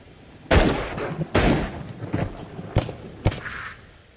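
Gunshots in the VR shooter Into the Radius, set in a factory: four or five separate reports spaced about a second apart at moderate volume, with no talking.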